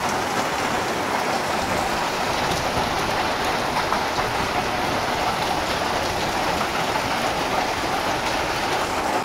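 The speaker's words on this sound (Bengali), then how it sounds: "বাইরে প্রচুর পরিমাণে বৃষ্টি হচ্ছে, এই দেখো কত বৃষ্টি নামছে কি জোরে" Heavy rain pours down outside in a dense, steady roar of drops that holds constant throughout, with no voices over it.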